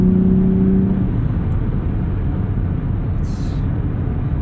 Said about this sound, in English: If you just kind of slowly mat the gas there, you can see the boost gauges just climbing up.